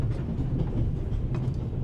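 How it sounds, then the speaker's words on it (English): A moving train carriage rattles steadily in a film scene, a dense low rumble with faint clacks close and continuous, no voices. "ask you where this beautiful train is taking you?"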